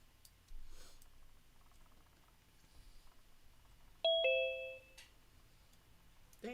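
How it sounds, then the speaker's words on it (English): A doorbell chimes once with a clear two-tone ding-dong, fairly near, over quiet room noise with faint breathing and sniffs. "Ding dong."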